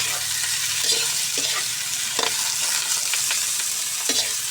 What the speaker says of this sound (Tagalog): Tapos haluhaluin lang natin siya.